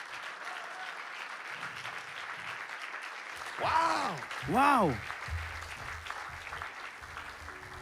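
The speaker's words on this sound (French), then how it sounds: "you have not even given me an applaud yet" Audience applause at a motivational talk, a steady wash of clapping filling the room throughout, with a voice exclaiming twice in the middle.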